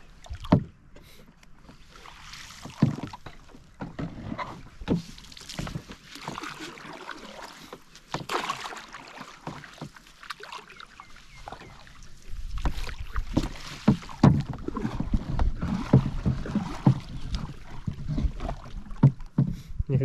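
A small boat is paddled through shallow river water, with soft intermittent splashes and water movement under steady wind noise, the strokes growing busier and louder toward the end.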